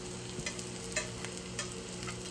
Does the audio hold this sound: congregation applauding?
no